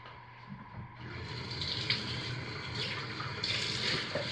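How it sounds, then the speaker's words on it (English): Lye water solution poured slowly into oils for cold process soap, a steady soft liquid trickle and splash that holds at an even level throughout, close and moderately quiet, with no talk. "So here we slowly and carefully pour our lye water solution into our oils."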